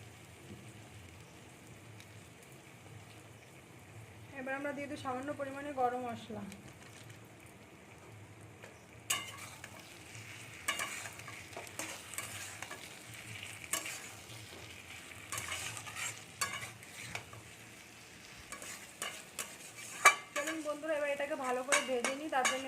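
Egg do pyaza masala with tomato sauce fries in a pan while a utensil stirs and scrapes it, giving a soft sizzle under irregular clinks and knocks, with short tonal sounds briefly over it.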